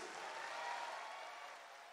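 Crowd applause at an Indonesian political party rally for PSI cadres, heard as a faint, continuous wash of clapping that holds steady and eases slightly toward the end of a short burst.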